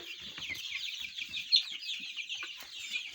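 A brooder full of growing chicks, about seventeen days old, chirps and clucks in a dense, continuous chatter, fairly close, with a few louder peeps standing out and no voices.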